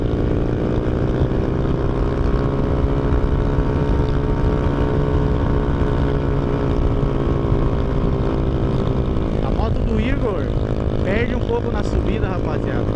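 A Honda Fan 125 motorcycle engine holds its revs while climbing a hill on a narrow, winding single-lane road, a steady droning hum heard from the rider's position with constant wind rush.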